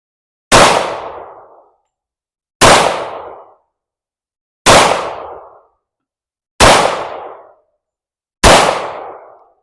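Five loud, sharp gunshots from a TISAS Carry .45 ACP pistol fired strong-hand on a range, evenly spaced about two seconds apart, each a hard crack with a short decaying tail and silence between.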